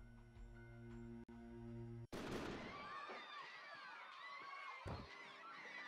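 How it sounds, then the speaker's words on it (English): A gunshot in the Code Realize: Guardian of Rebirth visual novel, set in a casino, comes as one sudden loud bang after a sustained tone and is followed by a ringing, shimmering decay. "Suddenly, a loud bang rings out"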